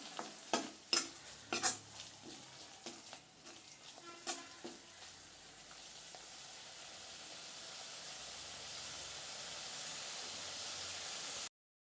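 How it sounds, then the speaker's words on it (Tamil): Masala sautéing in a pan for a wedding-style Tamil potato curry: a few sharp stirring clinks and scrapes at the start, then a steady close sizzle of frying that runs on unbroken with no talk. "இந்த மசாலாவோடைய வாசனை போகிற அளவுக்கு லைட்டாக வதக்கிக்கலாம்"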